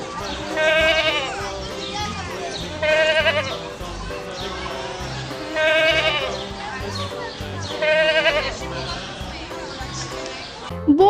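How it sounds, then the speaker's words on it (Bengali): A goat kid bleats in a kids' Bangla alphabet lesson, several clear wavering bleats spaced a couple of seconds apart over a soft musical background. "ছ ছয়ে ছাগল ছানা লাফিয়ে চলে"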